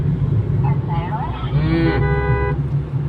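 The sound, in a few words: cow mooing on road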